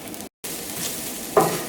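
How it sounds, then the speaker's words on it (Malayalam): Grated coconut sizzling and crackling in coconut oil over a medium flame, a steady close frying hiss with one brief dropout and a sharper burst of sizzle near the end. "ഈ തേങ്ങ നന്നായിട്ട് വറുത്തിട്ട് എടുക്കണമല്ലോ"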